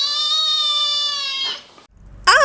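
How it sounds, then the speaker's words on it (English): A cartoon kitten sound effect: one long, loud, steady yowl lasting over a second, then a short pause and a sharp, harsh spitting hiss burst at the end. "spitting kitten."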